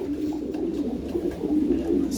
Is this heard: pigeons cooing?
yes